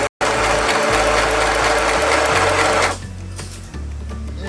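Sew Simple sewing machine driven by foot pedal stitching fabric, a loud continuous mechanical whir that drops to a slower, quieter run partway through, then picks up again.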